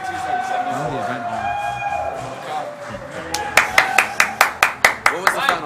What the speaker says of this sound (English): Clapping right into the mic.